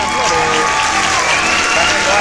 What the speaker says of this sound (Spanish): Ya son las 5 candidatas a quienes despedimos con fuertes aplausos.